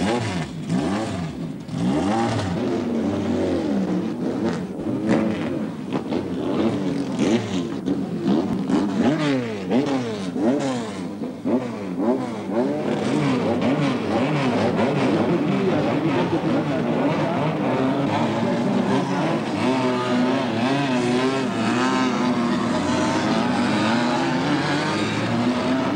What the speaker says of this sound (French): Cette épreuve de Formule 3 va être disputée sur 5 tours du circuit.